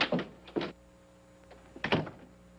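An office door in a 1950 film opens and closes, giving a few short knocks and thuds close by, with a quiet pause between them.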